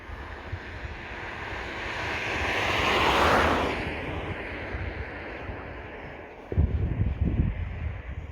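An Eachine T-28 remote-control model airplane's engine whines past, rising to a peak and fading away, followed by low wind buffeting on the microphone.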